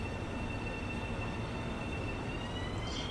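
An LIRR train departs a station in Train Sim World 3 as a soft, steady rail rumble with faint tonal whines from the traction motors, heard alone without talk.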